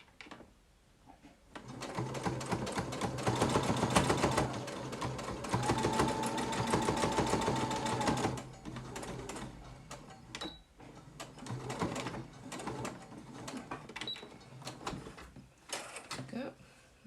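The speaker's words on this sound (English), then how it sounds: "So here I'm just going to sew these channels shut." A sewing machine stitches channels in a fabric pleated face mask, running in a steady whirring burst for several seconds, then in shorter stop-start runs, close up with talking over parts of it.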